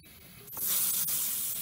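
Residual refrigerant pressure spitting from a loosened AC condenser fitting on a Porsche Boxster 986 with a leaking condenser, heard as a soft, steady hiss that swells up after a brief click and holds, quiet and close with no talking.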